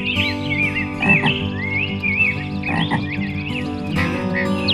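A cartoon frog croaks in repeated warbling bursts over a steady sustained musical tone, loud and close, with short sharper croaks breaking in.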